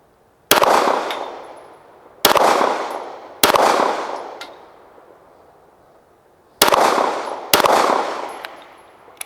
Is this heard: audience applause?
no